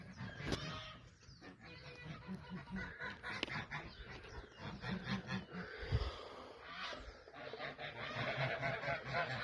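Geese honk repeatedly in a backyard vegetable garden with chickens about, their hoarse calls overlapping in an irregular, fairly close chorus throughout.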